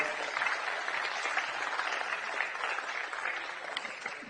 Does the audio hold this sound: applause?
yes